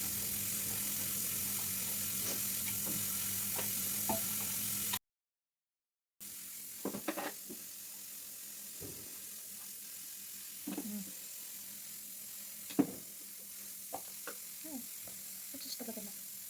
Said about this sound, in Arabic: حرك هادشي كامل ونخليه يتشحر